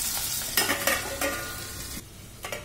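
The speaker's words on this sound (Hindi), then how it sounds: "अब इतना हमने सब्जियां डाल दी, इसको 1 से 2 मिनट पकाएंगे हम सिम पे" Vegetables for poha cook in a pan, giving a steady frying sizzle broken by a few short scraping stirs, close and fairly quiet, with no voices.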